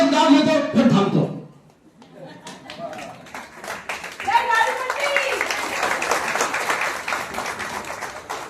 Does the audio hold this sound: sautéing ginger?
no